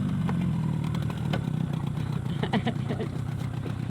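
A dinghy outboard engine runs in a low, steady drone with faint rattling, heard moderately quietly throughout.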